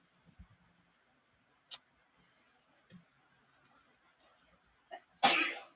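A single sharp sneeze bursts out near the end, close and loud, after a few faint coughs and small ticks in an otherwise quiet room.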